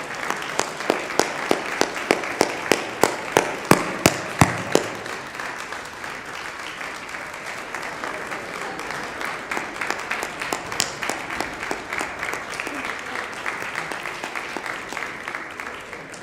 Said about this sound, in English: Please, can you get a round of applause?